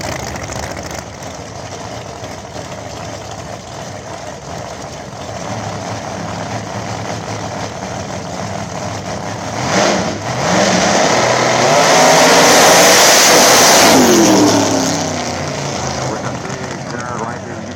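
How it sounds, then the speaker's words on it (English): Nitrous-fed Pro Mod drag cars at a Big Dog Shootout race make a steady loud engine roar that swells into a huge full-throttle blast near the middle, then eases off. "Two Nitrous cars trying to make the field right now for 433 bump."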